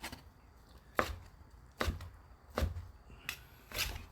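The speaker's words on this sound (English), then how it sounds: "We'll cut up this fajita" A knife chops through a fajita on a cutting board, five or six sharp, evenly spaced cuts about a second apart, close and fairly quiet.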